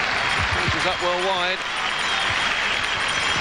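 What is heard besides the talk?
football crowd applause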